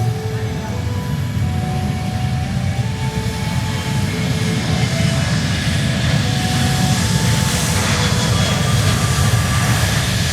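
An ANA Boeing 737-800 at Iwakuni airport roars steadily with jet engine noise, a sustained broadband rumble and whine that slowly swells in brightness toward the end, with no voice heard.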